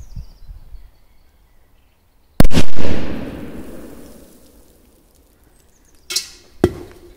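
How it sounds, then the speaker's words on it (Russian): A sudden loud bang from a big firecracker set off under a can rings out and trails off in a crackling decay, followed a few seconds later by two smaller, sharper pops. "Есть взрыв."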